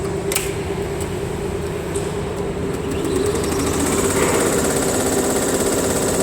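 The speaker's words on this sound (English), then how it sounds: "Okay, we start the embroidery work." An industrial embroidery machine starts up and runs steadily, its mechanical hum and rapid stitching chatter holding at a constant, fairly loud level, with a few brief clicks near the start.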